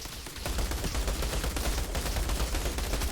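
Rapid, sustained gunfire of poison bullets in the video game Outriders, a dense unbroken burst of shots that stays loud and close for the whole stretch.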